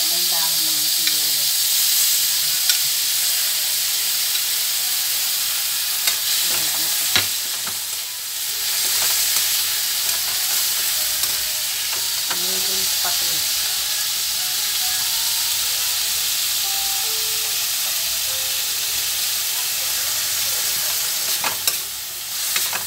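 Tomato sautéing in a pan while cooking fried tilapia: continuous sizzling hiss with occasional stirring scrapes and clicks, close and steady, with faint talk at moments.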